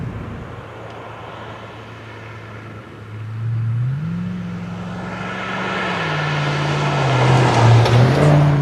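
A Volvo S80 with a V8 engine drives along, its engine droning steadily and then rising in pitch as it accelerates through the gears, loud and close from inside the car, with no talking.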